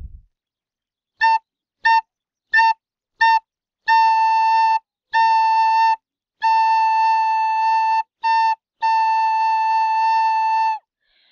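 A pure, breathy whistle-like tone from a flute head joint alone, first in four short toots, then longer sustained notes with brief gaps, clear and close.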